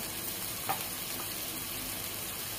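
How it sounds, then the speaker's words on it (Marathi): Gravy sizzling steadily in a pan with ground coriander and cumin powder, a constant close hiss with one brief clink, no talking. "आता ग्रेव्ही आपली भाजत आली, आपण त्यात मसाले टाकून घेऊया सगळे"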